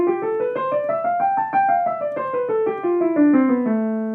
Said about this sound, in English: how to play the A natural minor scale 2 octaves hand separately